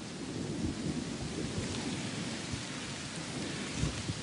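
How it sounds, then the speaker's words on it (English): Heavy rain pours down in a thunderstorm, a dense even hiss of drops striking surfaces, fairly faint and continuous throughout, with no voices. "It's absolutely pouring out there."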